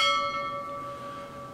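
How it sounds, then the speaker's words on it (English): A notification-style bell sound effect rings once, loud and clear, then decays slowly into a lingering metallic hum with no speech. "that little bell thing. Insert sound here."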